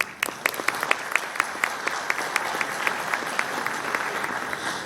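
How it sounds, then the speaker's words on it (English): An audience applauds at a university convocation ceremony, a steady round of clapping from a large crowd, with distinct individual claps standing out over the dense wash and holding at an even level throughout. "So please give him a big applause"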